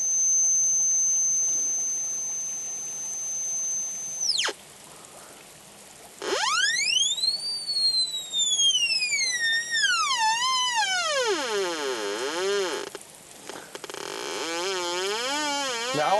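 Electronic tones from a Black Hawk metal detector while its interference control is adjusted: a steady high whine cuts off, then loud sweeping, warbling tones glide down and bend up and down before settling into wavering pulses, with no speech.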